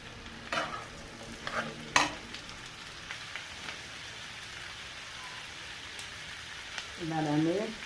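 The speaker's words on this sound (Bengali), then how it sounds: "আলুগুলো একটু ভেজে নিয়ে এবার আমি পেঁয়াজ কলিগুলো দিয়ে দিচ্ছি।" Potatoes and onion stalks fry in a pan with a soft, low crackle and a few sharp utensil clicks early on. A brief voice rises near the end.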